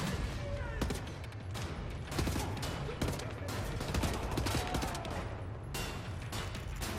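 Constant gunfire from a firefight in the shooter Wolfenstein: The New Order, dense overlapping shots and sharp impacts rattling without pause at moderate level, with a voice talking faintly underneath.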